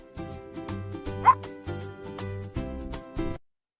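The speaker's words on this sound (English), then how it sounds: "Woof, woof. I am a dog. I guard the house." A dog barks in a rapid run of short, evenly spaced yips and woofs, sounding clean and synthetic, then stops abruptly into silence.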